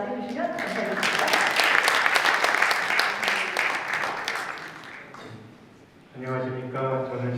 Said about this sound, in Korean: 박수로 맞이해주시면 감사하겠습니다.